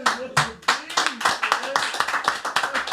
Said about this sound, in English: Give Enzo a round of motherfucking applause.